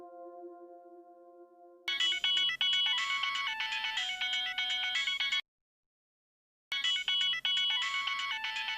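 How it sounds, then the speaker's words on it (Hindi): A bright electronic ringtone melody plays loudly in repeated bursts, pauses briefly, then resumes; a faint steady tone precedes it. "बहू का फोन है"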